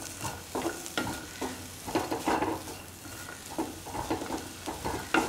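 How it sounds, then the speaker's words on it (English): Shallots and ginger are salted and stirred in a hot pan, with repeated scraping stirs over a soft, steady sizzle, close and without talk. "Keep on salting and mixing the shallots and the ginger"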